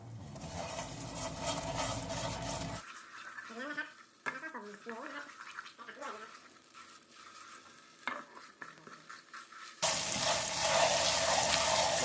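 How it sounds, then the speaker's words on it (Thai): Nam ngiao chili paste being stir-fried in a pan, with bursts of stirring, scraping and sizzling that stop briefly and then return loudly; a voice talks in between. "ใส่ไปครึ่งนึงก่อนนะครับ แล้วก็ผัดเลยนะครับ"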